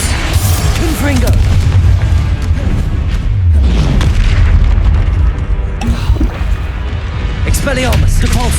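Confringo blasting spell going off in Hogwarts Legacy, a string of deep, loud booming explosions layered with dense game effects and voices calling out spells throughout.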